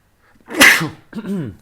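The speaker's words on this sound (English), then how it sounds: "Sorry, I have to sneeze." One sharp sneeze bursts out nearby, followed by a short breathy vocal sound.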